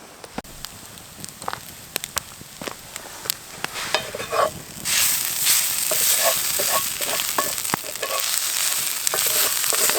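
Food cooking outdoors over a campfire, scattered pops and crackles that swell midway into a steady loud sizzle, with no talking.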